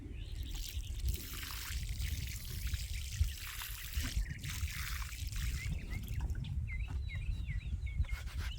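Liquid fish fertilizer poured onto a freshly planted honeyberry bush: a steady trickle and splash running for several seconds outdoors, with faint birdsong behind it.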